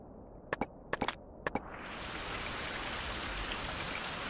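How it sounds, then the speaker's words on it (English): Rain falls in the survival video game Survival: Fountain of Youth, set on a tropical island. A few sharp taps are followed by a loud, steady hiss of rain that builds up and carries on to the end. "The rain is super loud, huh?"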